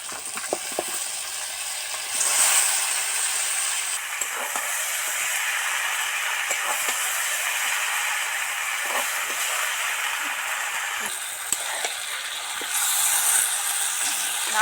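Spices sauté and fry in oil in a pan, giving a loud, continuous sizzle with scattered scraping clicks and small bursts of louder frying.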